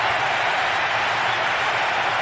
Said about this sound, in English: A huge roar of approval from the record crowd today